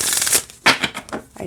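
Earth Song oracle cards with copper foiling are shuffled in a few short, separate bursts of papery flicking, close and crisp, with brief pauses between them.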